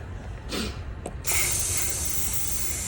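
A short spray burst of cleaner onto a Mazda Skyactiv exhaust camshaft, followed by a longer steady aerosol hiss, close by, with a faint click between the sprays.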